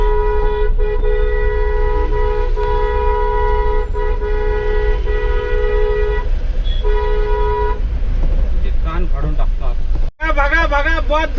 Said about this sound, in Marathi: हॉर्न बाजा के.